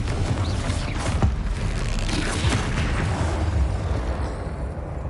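A Confringo explosion spell in the Hogwarts video game bursts with dense, rumbling booms and crackling blasts, loud and continuous for several seconds, with no talk over it.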